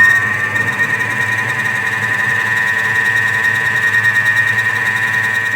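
A Thermomix whirls honey cake batter at speed 4, giving a steady, loud motor whine with a sharp high-pitched squeal that holds unbroken throughout, no voices over it.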